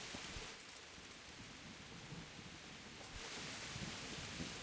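Steady rain pours in the game Kingdom Come Deliverance, a dense hiss with low rolling thunder rumbling beneath, faint and constant throughout.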